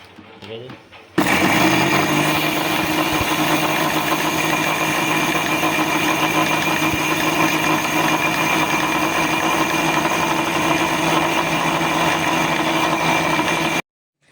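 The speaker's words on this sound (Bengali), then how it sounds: "প্রথমে শুকনো অবস্থায় একটু গুঁড়িয়ে নেওয়ার পর এর মধ্যে জল দিয়ে বাটা হবে" A mixer grinder runs on poppy seeds with green chillies and a dried red chilli, grinding them dry. After a brief start, a loud, steady motor whir with a grinding rattle continues unbroken for about twelve seconds, then cuts off.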